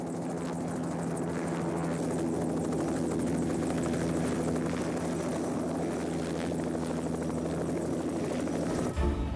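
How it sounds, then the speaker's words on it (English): A helicopter drones steadily with a throbbing rotor hum, loud and continuous throughout, flying from Timeri over Guyana's Demerara River, cutting off abruptly at the very end. "The helicopter will follow slowly."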